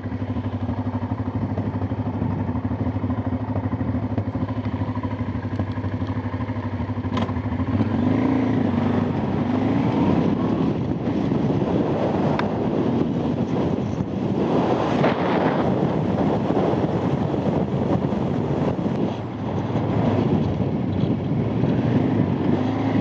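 Strong coastal wind roars and buffets the microphone of a moving motorcycle beside the ocean, a loud continuous rush with engine drone underneath throughout.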